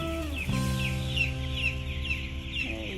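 Chickens on a farm cluck close by among many chicks, with a low steady clucking bed overlaid by repeated high thin peeping and tonal calls, continuous over a few seconds.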